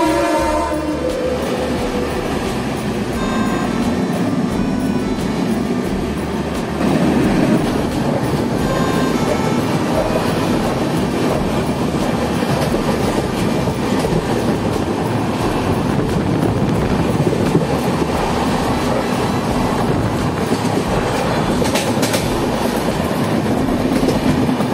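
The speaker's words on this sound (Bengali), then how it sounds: "এখানে আমাদের ট্রেনের সঙ্গে ক্রসিং হবে ট্রেন নাম্বার 13044 রক্সল থেকে হাওড়া" The Raxaul–Howrah Express, train 13044, passes at a station crossing. A loud, continuous rumble and rhythmic wheel clatter fill about twenty-five seconds, with no talk.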